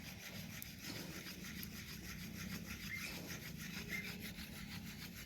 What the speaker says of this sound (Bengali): এই মাটিতেই ওরা চন্দন ঘষছে